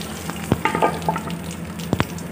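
Tadka sizzling in hot oil after curry leaves go into golden-fried dried chillies, a loud steady fry broken by sharp crackles and pops and a few stirring clinks close by.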